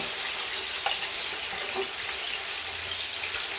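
Small pieces of Chilean sea bass frying in a skillet, a steady dense sizzle that stays loud and even throughout with no speech.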